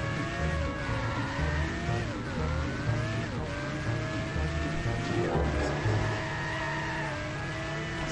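A car races at high speed in The Simpsons Hit & Run video game, with a steady, continuous engine roar and shifting pitch over a game soundtrack with a beat, loud and unbroken throughout.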